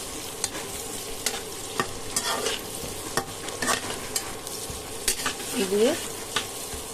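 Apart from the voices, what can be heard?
chopped garlic frying and being stirred in a pan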